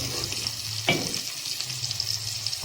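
Ground spices with turmeric and salt fry in a hot pan, giving a steady close sizzling hiss broken by one scraping stir near the start; no one speaks.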